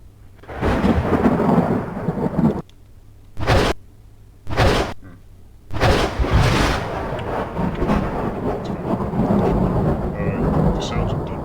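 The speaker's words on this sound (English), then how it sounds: "The sounds of thunder fill the room as his eyes open." Thunder sound effect played during a tabletop game session, heavy rumbling crashes in several bursts, some with abrupt cuts, ending in a long rolling stretch with no one speaking.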